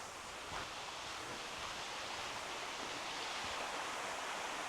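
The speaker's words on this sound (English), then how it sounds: "I hear running water" A decent-sized woodland creek in a Civil War park, swollen after overnight rain, gives a steady, broad rushing of water heard from nearby, continuous and unbroken, with no voices.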